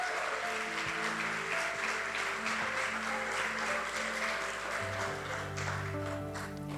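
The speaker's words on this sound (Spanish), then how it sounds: "Denle un fuerte aplauso al Señor." Church congregation applauding steadily throughout, a dense wash of clapping over sustained music tones in a worship service.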